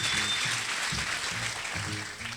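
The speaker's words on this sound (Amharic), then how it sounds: "እዚህ የነበራችሁ ሰዎች አጨብጭቡ ለጌታ ክብር" A church congregation claps together in worship, with a thick wash of hand claps over a low, pulsing musical backing that fades slightly toward the end.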